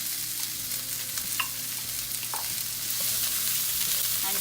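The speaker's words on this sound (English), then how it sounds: "keep it stir frying for a couple of minutes until your broccoli is a little bit cooked and your onion is translucent." Broccoli and onion stir frying in a pan, a steady close sizzle with scattered crackles and utensil scrapes, swelling slightly louder toward the end.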